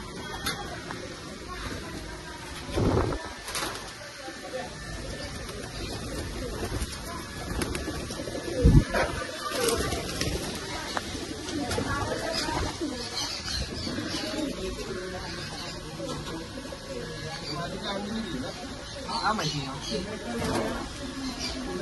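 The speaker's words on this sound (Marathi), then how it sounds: "आता तुम्हाला कबूतर दाखवतो." Pigeons coo softly and steadily in a new loft in Panvel, with scattered calls and fluttering throughout, and voices talking intermittently over them.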